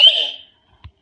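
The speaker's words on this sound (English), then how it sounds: "I will set on the alarm" A wireless alarm sensor gives a short electronic beep that fades within half a second, followed by a faint soft click, alone in quiet surroundings.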